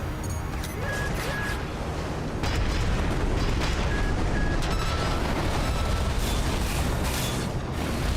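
Missile explosions in Armored Core VI come as a run of booming bursts and pops over a constant roar of mech combat. The din grows louder partway through, with faint beeping tones and no talk.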